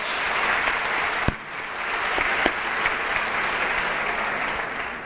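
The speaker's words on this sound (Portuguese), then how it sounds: "Eu acho que tem que dar um aplauso bem forte." Audience applause at a meeting celebrating a milestone of small groups, a steady dense clapping that holds evenly from start to finish, with a few sharper individual claps standing out.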